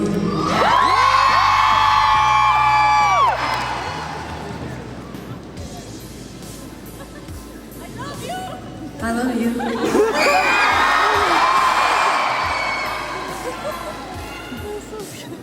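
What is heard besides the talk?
concert crowd cheering and screaming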